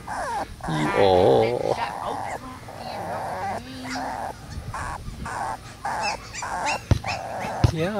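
A dog whines and whimpers in high, wavering cries, with a few short yips and some background voices and movement.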